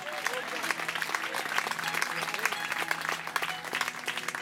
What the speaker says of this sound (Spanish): Dale fuerte las palmas al Señor. Dáselo bien fuerte a su nombre.